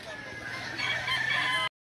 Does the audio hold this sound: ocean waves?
no